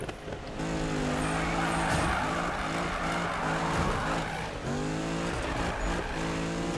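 A Mustang drifts in the racing game Need for Speed 2015, its engine revving in rising and falling harmonic sweeps while the tires squeal and skid, loud and continuous with no talking.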